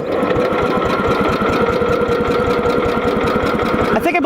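A small engine fitted with a spray-can exhaust runs rough and loud, a fast uneven chugging that stays steady and close throughout, with a possible blown head gasket.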